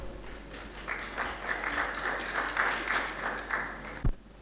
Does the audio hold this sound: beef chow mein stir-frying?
no